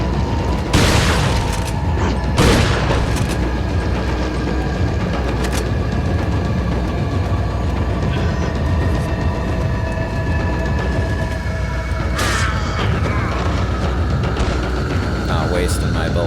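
Gunshots in Resident Evil 4 ring out as a few widely spaced loud cracks over a constant rumbling game background, with faint tonal hum running beneath.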